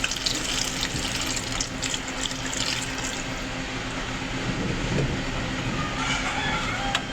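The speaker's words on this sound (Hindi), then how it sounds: "मैं इसके अंदर तकरीबन आधा लीटर पानी ऐड कर रहा हूँ।" Roughly half a litre of water poured into a pot of village-style aloo chicken curry, a steady continuous splashing and gushing that stays fairly loud throughout, with no talking.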